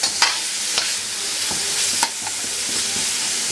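Garlic sizzles in a hot wok while a utensil scrapes and tosses it, giving a loud, close frying hiss broken by several sharp clinks and scrapes.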